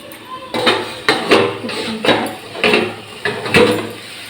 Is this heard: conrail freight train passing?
no